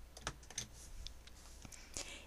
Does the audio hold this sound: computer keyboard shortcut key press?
yes